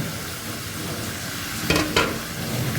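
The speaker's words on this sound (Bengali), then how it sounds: "পটলগুলো দিয়ে হালকা একটু কষাবো" Stuffed pointed gourds fry with spices in a pan, giving a steady, moderately loud sizzle with two brief sharp bursts as they are stirred.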